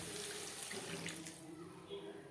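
Water pours into a pan of puti fish curry with onion and tomato, a soft continuous splashing gush, faint and close, with a voice murmuring underneath.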